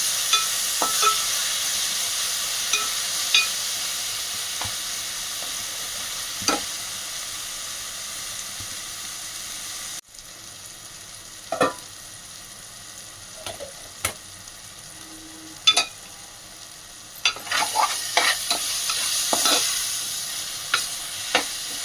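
Ginger garlic paste frying in a pan for mushroom curry, a soft continuous sizzle with occasional scrapes and clinks of stirring, fairly faint and close.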